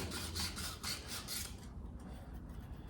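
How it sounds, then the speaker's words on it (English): Worn sandpaper rubs oxide from inside a bicycle steerer tube in quick back-and-forth rasping strokes, close and fairly quiet, which fade after about a second and a half. "I just use a worn-out piece of sandpaper"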